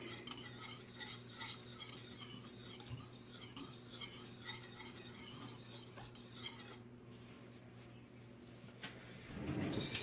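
Banana cream pie filling stirred in a bowl, faint rhythmic scraping and clinking of a utensil against the bowl, repeated strokes over a low steady hum, quiet and without talk.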